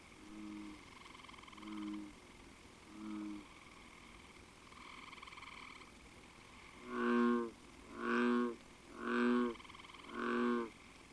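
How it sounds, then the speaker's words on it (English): A lone bullfrog gives four deep, resonant bass calls in a steady rhythm, loud and near, after softer croaks from a frog chorus at night. "And a lone bullfrog adds his bass voice to the concert."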